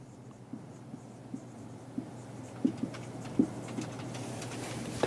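Chalk or marker taps and scratches on a board during a geometry lesson, faint short strokes coming every half second or so in a quiet room.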